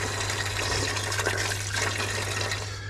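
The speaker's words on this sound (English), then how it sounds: "we've poured some water out through the system with this" Water runs steadily out of a radiator heating pipe system, a continuous rushing, hissing flow with a constant low hum underneath, close and even throughout.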